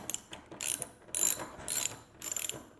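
A ratchet wrench works bolts on the deck hardware of a Seaward 26RK sailboat: four short bursts of rapid clicking, each about half a second long, close and fairly quiet.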